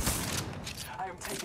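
Gunfire from the video game Apex Legends crackles in fast, dense bursts, fairly faint and busy across a short moment of gameplay.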